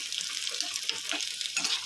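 Onions frying in hot oil in a pan for a prawn curry, a steady close sizzle with soft stirring scrapes throughout.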